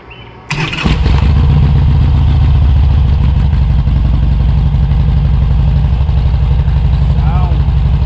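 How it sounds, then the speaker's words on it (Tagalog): A motorcycle engine cranks and catches after a brief quiet moment, then settles into a loud, close, steady idle with a rough, clattering rumble before a group ride. "Start the engine."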